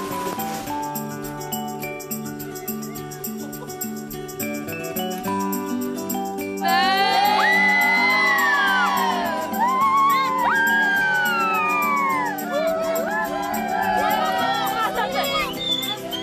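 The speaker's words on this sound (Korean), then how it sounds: "열렬한 환호 속에 도착한 마을 학교입니다" Students at a village school along the Karakoram Highway cheer enthusiastically to welcome visitors, a lively crowd of shouting and whooping voices rising over background music and chatter.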